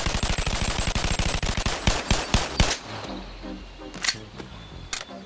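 Rapid automatic gunfire in the VR game Bonelab, a loud burst of evenly spaced shots for about three seconds, then a few scattered single shots against quieter background noise.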